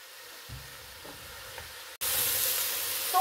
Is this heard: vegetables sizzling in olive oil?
yes